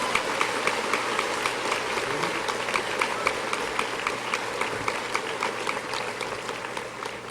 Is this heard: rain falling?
no